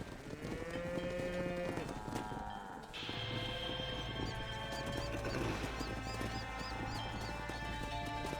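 A cattle herd moves on a ranch in Red Dead Redemption, with lowing cows, hooves clip-clopping and farm animal noises under steady game music, fairly quiet and continuous.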